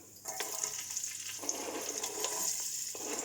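Onion frying with cumin seeds sizzles softly in a pan and is stirred now and then, a quiet continuous hiss with faint scraping and no voices.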